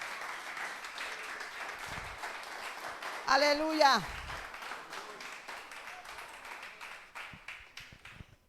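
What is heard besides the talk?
congregation applause in church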